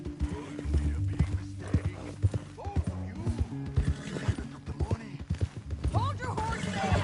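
Horse hooves clip-clop steadily on the ground in Red Dead Redemption II, with several riders moving together and a whinny or snort rising near the end, heard close over a low ambient rumble.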